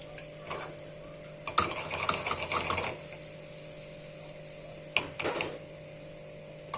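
Melted butter with red pepper powder stirred in a small pan, soft scraping and light clinks of a spoon against metal in short bursts over a steady hum, fairly quiet and close, no talk.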